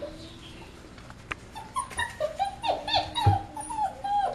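Six-week-old puppies whimpering and yipping at feeding time, a cluster of high, wavering whines that build and overlap, close by, with a soft thump partway through.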